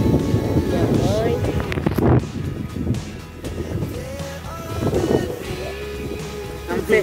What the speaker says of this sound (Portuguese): tá ventando demais por aqui